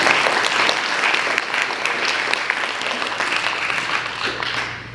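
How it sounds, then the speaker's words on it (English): Audience applause at a youth climate action holiday party, a sustained burst of many hands clapping at moderate distance that fades toward the end, with faint voices underneath. "Let's give a round of applause for SBYCA for that."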